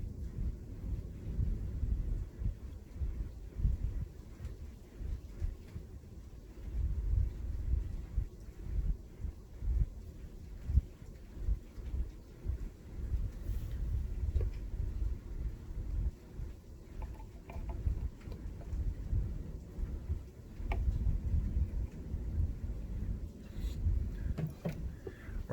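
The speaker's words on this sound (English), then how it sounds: "We're having a thunderstorm, you guys. I hope you guys can hear it." Low, rolling thunder rumbles on and off in the distance, with steady rain-like noise underneath and no talking.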